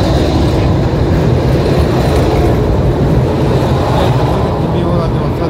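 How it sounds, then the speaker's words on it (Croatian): A tram in Zagreb rumbles steadily and loudly from inside, its continuous running noise filling the whole stretch with no clear pauses. "Mi ulazimo sad na tramvaj"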